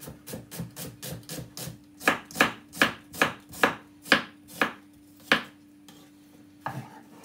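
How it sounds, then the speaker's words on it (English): A knife dices a red onion on a cutting board in a home kitchen, a quick run of light taps followed by a steadier series of louder, evenly spaced chops that slow and stop, close up with no talking. "Finally dice it up."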